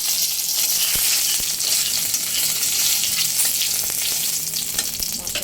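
Whole cumin seeds, dried chillies and bay leaves sizzling in hot oil, a loud, steady close-up hiss with a few sharp taps of a spoon against the pan, no voices.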